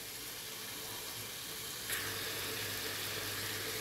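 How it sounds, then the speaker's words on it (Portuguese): A steady, quiet sizzle of ingredients sautéing in a pot for chicken and dried beef soup, getting a touch louder partway through, with no voices. "E aqui eu vou deixar só refogar mais um pouquinho."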